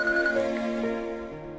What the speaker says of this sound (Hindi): ऐश्वर्या का फोन है।